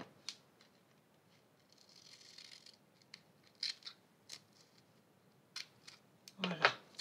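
Paper being cut with scissors, giving sparse, quiet snips spread across several seconds, then a louder cluster of close cuts near the end, with no talking.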